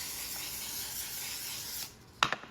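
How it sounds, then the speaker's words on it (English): One Size setting spray mists onto a face in a soft, steady hiss lasting under two seconds, followed by a couple of faint clicks in near silence. "I'm going to use the One Size setting spray to set my face."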